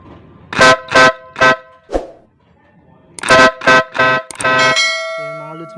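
Several loud motorcycle horn honks powered by a low, weak battery: three short blasts, a pause, then a quick series of beeps ending in one long sustained honk, close by.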